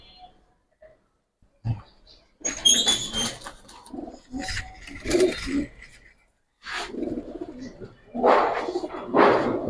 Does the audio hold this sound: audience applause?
no